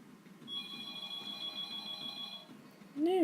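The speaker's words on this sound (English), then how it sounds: "Ignore the phone." A phone rings for a couple of seconds with a steady electronic tone, fairly quiet and heard alone over a low background hum, before a louder sweeping sound cuts in.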